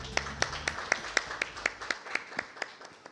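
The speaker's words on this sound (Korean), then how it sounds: "여러분 큰 박수 부탁드립니다." At a smart-care policy forum during the Seoul Health Show, a small audience claps to welcome a presenter. The claps are sparse and rhythmic at low volume, and a brief low murmur is heard at the start.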